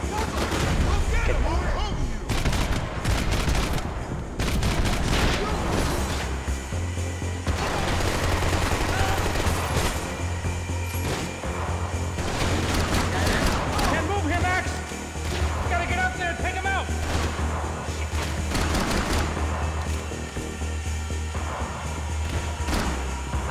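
Bursts of gunfire from the video game Max Payne 3 crackle and thud repeatedly amid low explosions and a steady game drone, while a player talks over the action.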